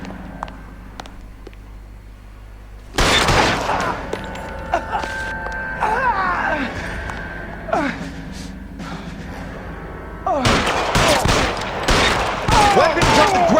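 Rapid bursts of gunfire and a ragged fusillade in the L.A. Noire shootout, loud and close, with impacts and crashes mixed in and someone talking over the shooting.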